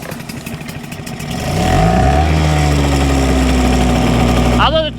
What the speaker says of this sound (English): two-stroke does sound better